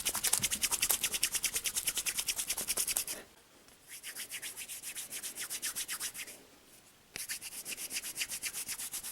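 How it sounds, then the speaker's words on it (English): Hands rubbing wet yarn together to join a new ball of yarn, a close, soft rhythmic scratchy rubbing in quick strokes, pausing briefly partway through, then resuming. "So now what I'm going to do is start rubbing my hands together."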